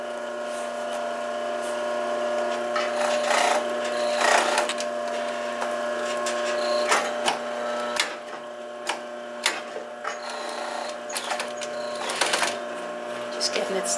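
A sewing machine stitches the sides of a straw clutch, running in a rapid mechanical whir broken into short bursts with pauses, while someone speaks in between.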